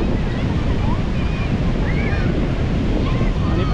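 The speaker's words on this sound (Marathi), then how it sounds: "एका साईडला जे लाटा उसळत आहेत त्या साईडला जरा जाऊन बघतो" Sea waves crashing and rushing up a beach at Gavkhadi on the Rajapur coast, a loud continuous roar of surf blended with buffeting wind on the microphone and no break.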